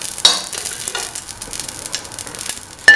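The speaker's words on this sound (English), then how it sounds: "Put in the dry grapes or raisins into the clarified butter." Raisins (dry grapes) frying in hot clarified butter, a steady close sizzle with soft stirring scrapes and a couple of sharper clinks of a utensil against the pan.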